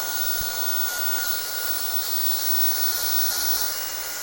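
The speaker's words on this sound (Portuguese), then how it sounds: "Secador da mesma regulagem, velocidade média, temperatura alta." A hair dryer set to medium speed and high heat runs continuously nearby during brush styling, a steady broadband whoosh with a brief knock early on and no speech.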